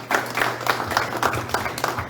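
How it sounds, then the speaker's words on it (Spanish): A church congregation claps along in a rhythmic group beat, with steady handclaps repeating about every quarter second and a low hum running underneath. "Denle un aplauso al Señor"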